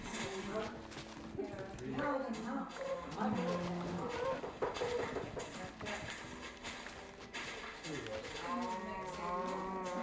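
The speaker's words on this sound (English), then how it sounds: "There's a bunch of cows here." Cows moo repeatedly in the Minecraft video game, several drawn-out calls rising and falling, with clopping footsteps and a person talking over the game sounds.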